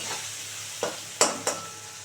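Potato, onion and chili frying in a pan with turmeric, a steady soft sizzle broken by three sharp spatula scrapes and clacks as the mix is stirred, close and alone.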